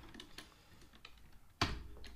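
Faint, close keystrokes tap irregularly on a computer keyboard during a spreadsheet task, ending in one sharper, louder key press.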